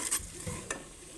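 Tomatoes get stirred into garlic frying in a pan for a potato and wadiyan curry, a short burst of soft sizzle with a few close scrapes and clinks.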